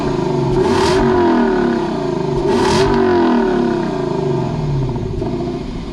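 A 2021 Lexus LC500 with a 5.0L V8 revs loudly and close by, its deep engine note swelling and dropping in repeated surges with a hard, rising snarl under constant throaty rumble.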